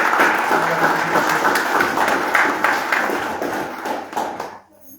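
Audience applause at a commemorative march gathering in Montevideo, a dense steady clapping from a crowd that carries for several seconds and then fades out abruptly near the end.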